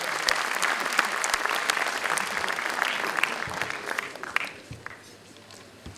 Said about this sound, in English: may I have a big round of applause for His Excellency